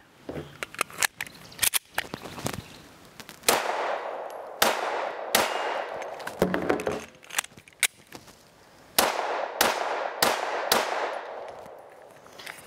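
A Mossberg MC2C pistol fires loud, sharp shots in irregular bursts during an emergency reload drill, with brief gaps and clattering handling noise between strings of fire.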